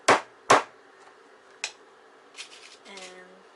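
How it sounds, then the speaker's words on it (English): Finishing nails hammered into a wooden armrest inside an RV, two sharp close taps followed by a lighter third and softer knocks, with a brief squeaky tone near the end. "And hammering it in."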